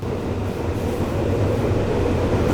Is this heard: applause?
no